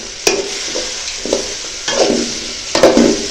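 Tomato sautéing with onions in a pan makes a soft steady sizzle, broken by several scraping stirs of a spoon at irregular intervals.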